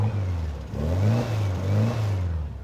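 A 1963 Volkswagen Beetle engine runs and revs in a steady, low, air-cooled drone, rising and falling twice in throttle swells, close by and without talk.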